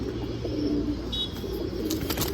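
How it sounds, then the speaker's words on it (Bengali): Pigeons on a rooftop, four newly brought birds, give low steady cooing throughout, with a faint higher chirp partway through and some background rustle. "হচ্ছে 4টা নতুন কবুতর,"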